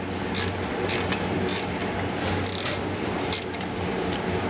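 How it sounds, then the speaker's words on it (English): Ratchet being worked on an 850 hp car, a steady run of loud, close metallic clicking over a constant mechanical background, with no talking. "Run the ratchet."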